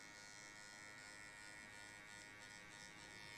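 An electric hair clipper buzzes steadily while cutting a mid fade haircut, a faint, continuous hum with slight fluctuations as the blade moves through the hair.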